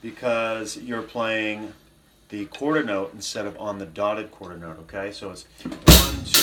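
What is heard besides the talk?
No everyday noise stands out behind the speech.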